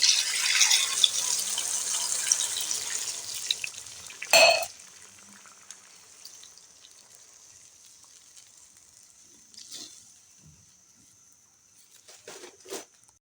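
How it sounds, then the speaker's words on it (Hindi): Water is poured into a pan of frying mutton kofta curry, cutting through a steady sizzle with one short, loud hissing burst, then quieter bubbling and a few faint clinks. "पानी ऐड करेंगे अब इसमें।"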